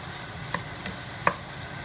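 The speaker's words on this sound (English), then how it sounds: "So I can just saute the veggies with the sausage and its own fat." Vegetables sauté with sausage in its own rendered fat, a short burst of steady hissing sizzle with two or three quick spatula scrapes, close and even, no voices.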